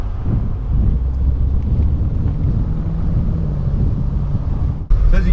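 Land Rover Defender V8 P525 with a stainless steel exhaust driving uphill at 40 mph, a loud steady low engine drone mixed with wind and road rumble, briefly dipping near the end.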